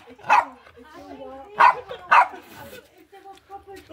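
Three loud, close barks from dogs at home, separated by pauses, with quieter whimpers, yips and a person talking between them.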